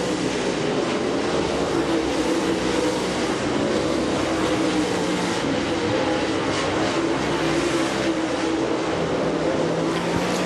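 Dirt late model race cars roar out of turn 4 on the final lap toward the checkered flag, a dense, steady engine roar from a crowd-filled oval that holds for the whole stretch without letting up.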